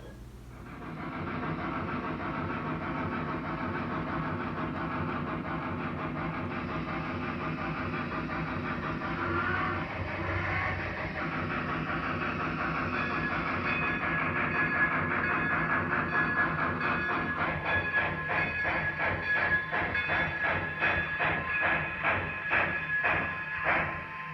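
A small Baldwin RF-16 model locomotive motor whirs steadily on a track, the pitch rising and a rhythmic clicking growing louder as it picks up speed.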